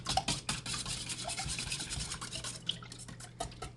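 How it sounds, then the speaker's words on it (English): A whisk beats eggs in a bowl, quick repeated scraping strokes in a close, fairly quiet rhythm with small wet ticks. "We're going to whisk up"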